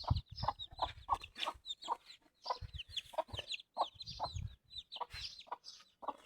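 Hens and chicks cluck and peep in a busy, overlapping stream while being fed, with short close calls and higher chirps scattered throughout and no talk.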